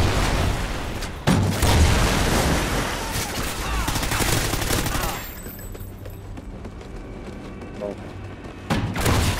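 Rapid gunfire and shooting from a multiplayer video game objective match, loud bursts through the first half, then quieter distant shots with occasional talk from players.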